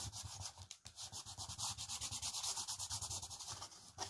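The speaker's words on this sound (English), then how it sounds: "I'm just going to rub that down with a popsicle stick. And I'm just rubbing it on there flat." A soft wooden popsicle stick rubs back and forth over a tile surface, a quiet, close, rhythmic scraping and brushing in fast regular strokes with no talk.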